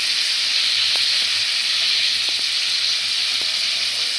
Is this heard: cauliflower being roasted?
yes